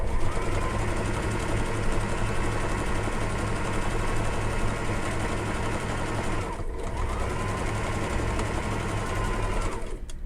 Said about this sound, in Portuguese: Vamos costurar.